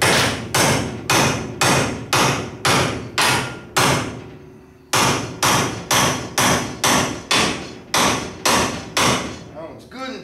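Steady, loud hammer blows on a Nova car, about two per second, ringing and repeating for the whole stretch with one brief pause midway; no talking.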